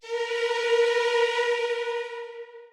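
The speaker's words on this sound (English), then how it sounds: "The next sound we have is the string sound." A one-shot string sample in FL Studio sounds one sustained, bright tone on the root note with a full set of harmonics, holding steady for about two seconds and then fading out, dry apart from EQ and with no reverb.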